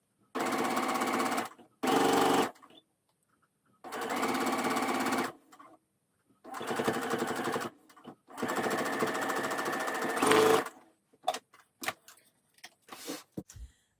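A sewing machine runs a curved rolled hem through blouse fabric in loud, close bursts of rapid stitching separated by short pauses, ending in a few brief stuttering stitches, with no talking.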